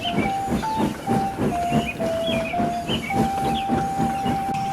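A steam train hisses as it departs, with rhythmic chuffing puffs and a sustained steam whistle tone running over the top, loud and close.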